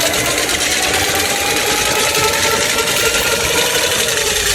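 Vibrating sander with sandpaper buzzing against a hard-frozen watermelon, a loud continuous rattling drone with no pauses throughout.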